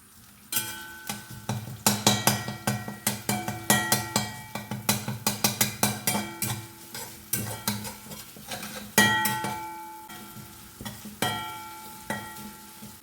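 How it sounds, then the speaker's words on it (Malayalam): Crushed ginger and garlic fry in hot oil while a metal spoon stirs them. Rapid, ringing clanks against the pan come in uneven bursts over a faint underlying sizzle, with short pauses between rounds of stirring. "ചെന്ന് ചൂടായാൽ ആദ്യം തന്നെ ഇഞ്ചി വെളുത്തുള്ളി ചതച്ചത് ഇട്ടു"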